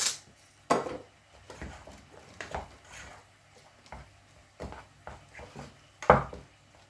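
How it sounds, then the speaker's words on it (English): Potatoes being mashed with plenty of butter in a pot: scattered soft thuds and knocks of a masher against the pot, irregular and fairly quiet, with squishy pauses between strokes and no talking. "Now you're getting some nice smooth mashed potato, but without going gloopy."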